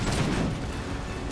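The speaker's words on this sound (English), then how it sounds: "Lots of fire, lots of guns going off." Guns and cannons fire during a siege in a video game, with a dense, muffled rumble of overlapping gunfire and booms running continuously through a short stretch.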